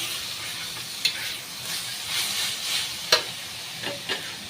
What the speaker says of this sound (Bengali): বড়ি দিয়ে ভালো করে মিশিয়ে নেবো